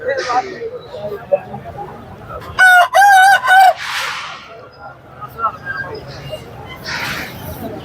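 A Shamo rooster crows loudly close by at a rooster market in one long, strained call, with other clucking and crowing in the background and people talking faintly.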